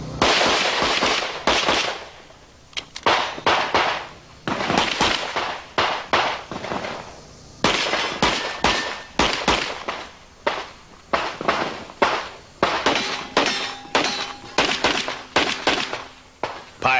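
Rapid pistol gunshots at a 1992 USPSA championship shooting match, sharp loud cracks fired in quick bursts and strings with short pauses between, close by, with faint background voices.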